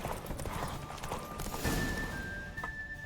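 A horse's hooves clip-clop in The Witcher 3, a quiet, steady walking rhythm under ambient game sound and a faint tonal hum, with no speech.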